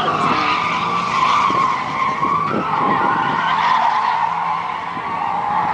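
A drift car spins at Heartland Park Topeka with a loud, continuous tire skid squealing for several seconds, the wailing screech wavering as the car slides, heard from trackside.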